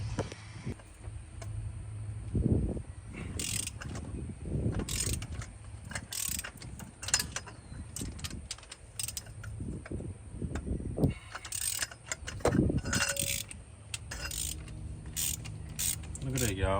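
Ratchet loosening head bolts on an aluminum 5.3 engine with stripped head bolt threads, in a close, moderately loud workshop setting; bursts of clicking ratcheting separated by pauses and clanks.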